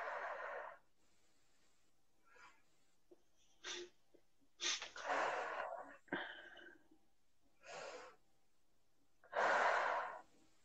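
A person takes several deep breaths, each a separate inhale or exhale, some with a rough, sniffly edge and quiet pauses between them.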